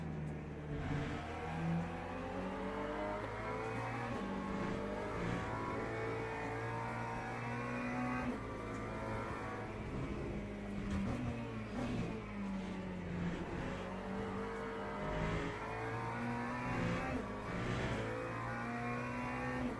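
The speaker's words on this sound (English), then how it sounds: "That's a fast BMW behind me. Spaceship sounds on sports mode." A fast BMW race car in Le Mans Ultimate online racing drones continuously, rising and falling through the gears while passing. Its loud, steady engine tone carries on throughout with no talk.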